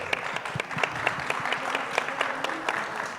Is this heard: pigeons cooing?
no